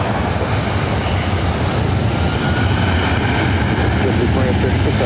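A Boeing 737-700 airliner takes off from runway 24 right at LAX, a loud, continuous broadband jet roar holding steady throughout, with faint radio talk underneath.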